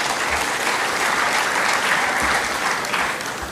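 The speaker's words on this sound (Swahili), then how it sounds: "Muwapigie makofi." A large audience claps together at a joint ODM–UDA parliamentary meeting, the dense, sustained applause running unbroken and fairly loud throughout.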